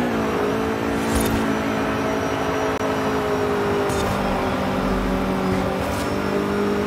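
A 1980 Renault Turbo rally car engine in Forza Horizon 5 roars steadily at high revs, its tone climbing slightly with a few brief shifts and gravel bursts, no voices.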